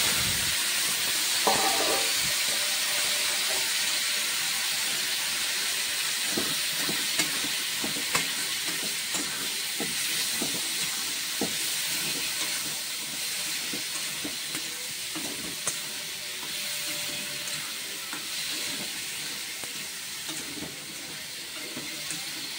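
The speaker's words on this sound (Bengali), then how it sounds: "এদিকে তেল গরম হয়ে গেছে, এখন আমি সবজি দিয়ে দিচ্ছি।" Vegetables dropped into hot oil for a vegetarian dish, a loud close sizzle that flares at first then settles into a long, continuous hiss, with scattered clicks and scrapes of stirring throughout.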